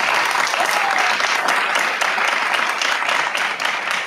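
Studio audience applauding on a Greek TV talk show, steady dense clapping throughout, loud and close with no voices over it.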